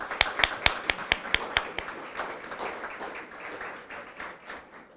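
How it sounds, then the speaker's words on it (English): An audience applauds at the World Chess Hall of Fame's 5th anniversary celebration. A few sharp, separate claps open it, then they blend into a dense patter that slowly fades. "Give them a round of applause, please."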